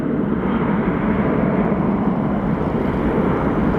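An Airbus A319 jet at Phoenix Sky Harbor Airport gives off a continuous, moderately loud engine rumble and rush, steady and unbroken, with no talking.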